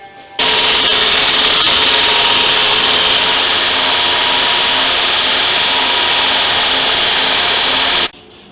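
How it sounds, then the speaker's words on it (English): A power grinder works steadily on the handle of a pipe tomahawk, a loud continuous abrasive whine that starts abruptly, holds for about eight seconds without pause, then cuts off. "let's go ahead and start grinding on this and work on the handle"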